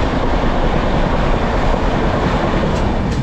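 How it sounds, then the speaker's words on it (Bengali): Steady, loud rumble from inside the moving 13151 Jammu Tawi Express from Kolkata, with constant wheel and carriage noise and no voices. "এগারোটা 45-এ ট্রেন কলকাতা স্টেশন থেকে ছাড়ার পর এখনও পর্যন্ত বলা যায় নির্ধারিত টাইমেই আমাদের ট্রেনটা কিন্তু যাচ্ছে।"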